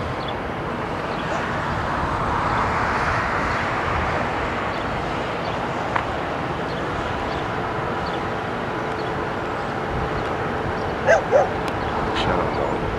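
A dog barks outdoors in New Orleans in 1992, a couple of quick sharp barks late on over steady background rumble of traffic and distant engines.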